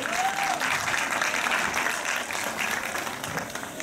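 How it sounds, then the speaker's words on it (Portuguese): A classroom group claps for Ian and Mateuzinho, with steady, dense applause filling the room evenly for a few seconds and tapering slightly at the end. "Salva de palmas aí pro Ian e pro Mateuzinho aí."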